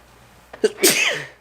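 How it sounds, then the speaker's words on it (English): A single loud sneeze, a short sharp inhale followed by a bursting exhale, close to the listener. "Sneeze."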